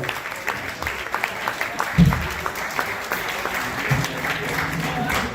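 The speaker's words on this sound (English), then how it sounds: "Now that was some polite applause" Polite audience applause at a jazz concert honoring a bailiff, a moderate patter of many hands that runs throughout while voices talk over it.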